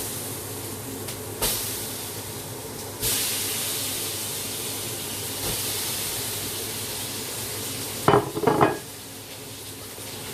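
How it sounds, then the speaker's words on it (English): Pork fat frying on its own in a pan gives a steady, close hiss and sizzle, with a few sharp utensil clatters near the end. "I want to fry up the fat on its own now"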